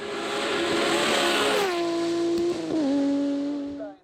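A BMW M3 E36 race car at a hill climb, its engine rising then dropping through gear changes and revving hard, loud and close before fading quickly at the end.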